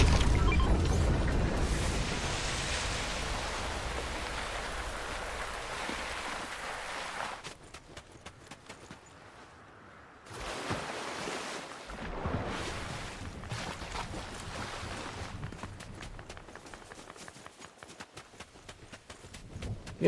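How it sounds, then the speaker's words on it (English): A rushing, sliding noise like running water chases the player in the game Become Chicken. It roars loud and steady for several seconds, drops to a lull, then returns quieter with a crackling texture. "The running water or the sliding thing."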